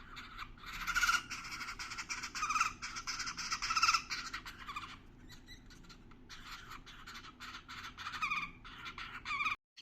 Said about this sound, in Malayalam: വൈറ്റ് ചീക്ക്ഡ് ബാർബിറ്റ് എന്നുള്ള പക്ഷിയുടെ കുഞ്ഞാണ് കേട്ടോ